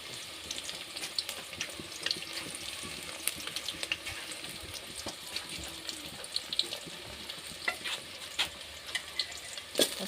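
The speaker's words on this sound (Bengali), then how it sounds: "পেঁয়াজগুলো আগে বেজে নেবো" Onions frying in oil in a pan on a clay stove, a steady crackling sizzle with scattered sharp pops and light scraping stirs throughout, fairly close and with no voices.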